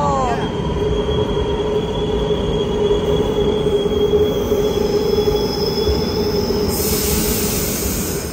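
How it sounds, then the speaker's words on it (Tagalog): A train pulls into a station, its wheels squealing in a high, sustained screech over a steady rolling rumble, loud and close throughout, with faint voices in the background. "Padating na ang tren. Ayan na siya."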